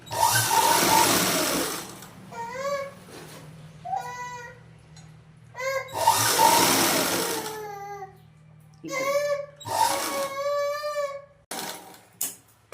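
A sewing machine stitches around a blouse neckline, its motor running in bursts of about two seconds separated by pauses, with quiet tonal chatter between the runs.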